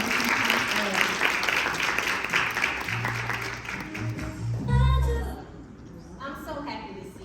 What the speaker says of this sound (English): let's give a round of applause for Miss Nishay Moore